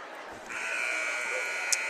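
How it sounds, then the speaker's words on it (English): A basketball game-clock buzzer sounds in a gym during a 1A substate high school game, a steady loud electronic drone starting about half a second in and holding to the end over crowd noise. "And there is the telltale buzzer."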